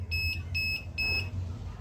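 A UPS kit gives its low-battery warning as three evenly spaced electronic beeps, each about a quarter second long and piercing, over a low steady hum.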